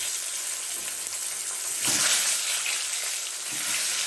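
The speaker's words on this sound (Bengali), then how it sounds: "দিয়ে আমি এবার এর মধ্যে ডিমগুলো দিয়ে দিচ্ছি" Eggs hit a hot pan seasoned with salt and turmeric, and a steady, close sizzle of frying fills the whole stretch with a slight surge partway through.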